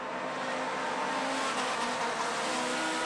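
Race cars in a New Zealand Production Saloons championship feature final roar past together, a dense, loud engine wail and rumble, heard without commentary over it.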